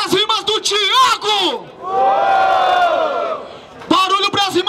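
A live crowd at a Brazilian freestyle rap battle roars and shouts during the audience vote, a loud sustained burst in the middle, framed by an announcer's voice talking before and after.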